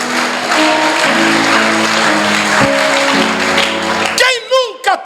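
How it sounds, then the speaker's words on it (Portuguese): A church congregation applauds in a loud, sustained wash of clapping beneath a steady sung or played tone, breaking off near the end as a voice cuts in. "Aplauda e glorifica o nome do Senhor Jesus"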